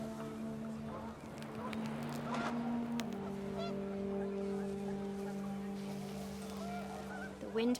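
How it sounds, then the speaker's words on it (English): Panicked geese honk in the game What Remains of Edith Finch, with a few scattered calls rising over a sustained low droning tone and wind, faint and somewhat distant. "The wind picked up and panicked geese appeared and quickly went."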